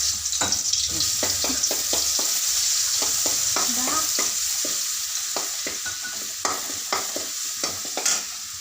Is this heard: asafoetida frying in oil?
yes